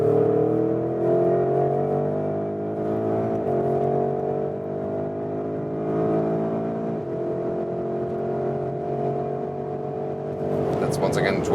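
Porsche Cayenne GTS Coupe (2021) accelerating in Sport Plus mode from about 80 km/h, its engine a loud steady drone with rising harmonics and brief dips at gear changes.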